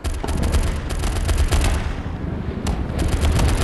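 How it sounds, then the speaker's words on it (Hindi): Loud, dense game gunfire in a World War 2 battle shooter on Android, with continuous machine-gun bursts and rapid shots rattling throughout, no speech. "गोलियाँ किधर चल रही हैं?"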